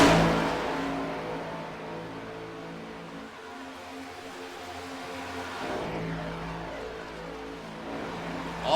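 Several race cars in a tight pack roar past at Atlanta during a Cup race, a sustained loud engine drone that dips briefly and then swells again as the pack passes close by.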